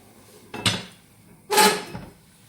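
A lid is set on a cooking pot on a small stove burner in a home kitchen, two distinct metallic clanks about a second apart, close and moderately loud, each with a short ringing decay.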